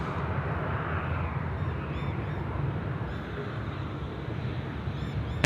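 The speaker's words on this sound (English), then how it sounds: "Right, on Nippon now, cleared for takeoff, runway 34 left. Going to roll it out here." A Nippon Cargo airliner rolls for takeoff on runway 34 left at Sydney Airport, a steady broad distant engine roar with faint high whines and birdlike chirps above it.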